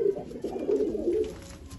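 A breeding pair of Teddy pigeons cooing in soft, rolling low murmurs, repeated steadily at close range with no voices over them.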